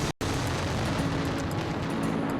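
An aerial firework barrage in Valencia during the Fallas festival rumbles as a dense, continuous roar of overlapping bursts, loud and steady after a brief silent gap near the start.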